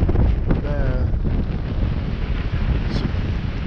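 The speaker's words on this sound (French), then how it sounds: "ça fait 5 jours qu'on est dans une mer forte, vent violent" Strong wind at sea during a transatlantic sailing crossing buffets the microphone in a constant roar, with rough water rushing and sloshing beneath it and a faint creak now and then.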